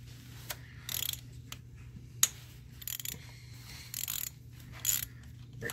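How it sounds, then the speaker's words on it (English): A ratchet with a 10 mm socket loosening a bolt during a high pressure fuel pump replacement on a Ford F-150, giving several separate bursts of close clicking pawl sounds between quiet pauses, with a sharp metallic clink. "get your handy dandy ratchet"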